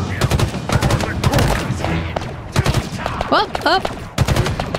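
Rapid automatic weapon fire from a sci-fi shooter in Halo Infinite, bursts of sharp loud shots repeating across the clip with brief gaps, plus a couple of electronic zaps, while a player's voice speaks briefly over it.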